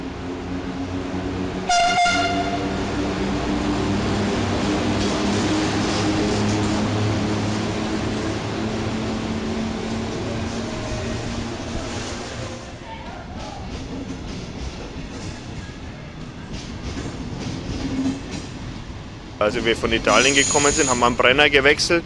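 A passenger train runs on rails with a continuous rumbling roar and rhythmic clatter, a short horn blast near the start, and a louder burst of wheel and rail noise at the end, with speech over it.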